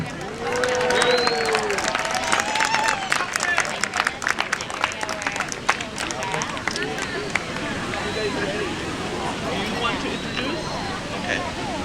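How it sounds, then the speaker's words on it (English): Crowd applause for a drum group at an outdoor Indigenous Peoples Day pow wow in San Francisco, a dense, steady wash of clapping and cheering mixed with crowd babble that tapers off slightly toward the end. "A round of applause for All Nations Drum Group."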